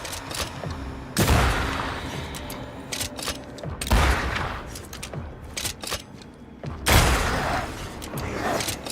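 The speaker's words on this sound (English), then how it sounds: "Is that the sound of a corpse cocking its gun?" Gunfire in Banishers: Ghosts of New Eden, with three loud broadband bursts at roughly three-second intervals over a busy, clattering game soundscape, with no talk.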